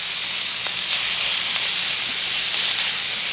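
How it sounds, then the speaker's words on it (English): Steak for a cheesesteak sandwich sizzles on a hot cooking surface, a steady close hiss with faint pops and crackles throughout and no voices. "Now I'm only gonna cook enough of this steak just for one person."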